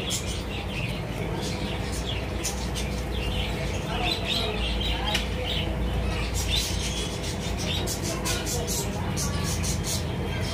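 Steady chirping and cooing of many pigeons for sale, a busy din with constant low rumbling and voices talking over it.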